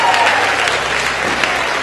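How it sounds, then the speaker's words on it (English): A theater crowd at a comedy hypnotist show claps and cheers, loud and continuous from start to finish. "And the audience will clap and cheer"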